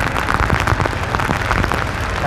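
Heavy downpour at the old market in Cau Kho, District 1, Saigon, a dense, steady hiss of rain drumming on surfaces, loud and close throughout with no voices.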